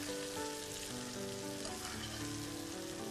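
Fish from Cần Giờ frying in a pan with garlic and shallots in Vietnamese home cooking, giving a steady, loud, continuous sizzle and crackle throughout with no voices.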